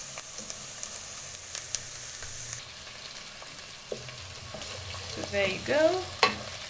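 Peas and diced carrots stir-fry for vegetable fried rice, with a soft sizzle and occasional spatula clinks and scrapes, and a brief spoken remark near the end.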